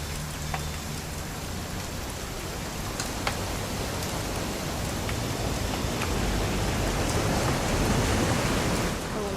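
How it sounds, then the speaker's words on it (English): Steady rain falling during a weekend outing in What Remains of Edith Finch, a continuous dense hiss with scattered droplet ticks and faint low rumbling underneath. "It's gonna rain the whole weekend"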